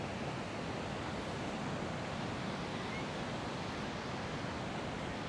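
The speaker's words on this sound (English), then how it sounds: "The ocean, people are in the water, but it is very rough." Rough ocean surf at a beach in Da Nang, a dense, unbroken roar of breaking waves that stays loud and steady throughout, with no talk.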